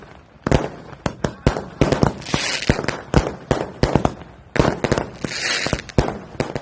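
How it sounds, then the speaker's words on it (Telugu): Firecrackers set off in celebration after two buildings were demolished, a rapid irregular string of sharp cracking bangs, loud and close, continuing throughout with no talk. "టపాసులు కూడా కాలుస్తున్నారు."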